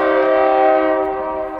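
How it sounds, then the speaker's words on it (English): A train passing through Herman at Nestoria Road sounds a steady, loud, sustained horn chord that holds for the whole stretch over low rumble. "See if we get a view of the train this way."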